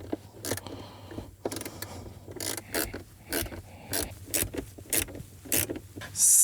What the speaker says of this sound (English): I actually have to try and screw the whole screw in just with a wrench